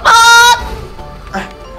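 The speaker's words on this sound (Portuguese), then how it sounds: "A mendiga tá batendo na galinha." A chicken in GTA 5 being hit by a woman lets out one loud, honking squawk, then a shorter, fainter cry a moment later.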